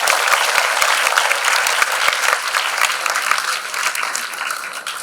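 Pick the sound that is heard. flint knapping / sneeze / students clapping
students clapping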